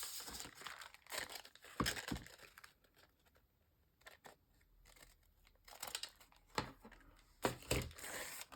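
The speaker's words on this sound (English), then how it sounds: "I'm going to cut the extra off here" Scissors snip off extra paper for a junk journal in a quiet room, a series of close, crisp cuts and paper rustles in irregular bursts with brief pauses between, no talking.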